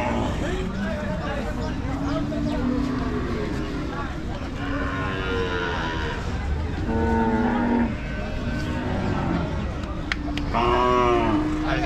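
Cattle at a crowded Qurbani cow market (haat) in Hazratpur give several drawn-out moos, some near and loud and others farther off. Steady crowd chatter and voices run underneath throughout.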